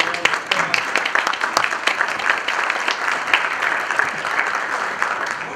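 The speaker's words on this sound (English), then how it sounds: "Please give Bob a round of applause." Audience applause at a keynote event, a dense, steady wash of many hands clapping that carries on throughout without pause.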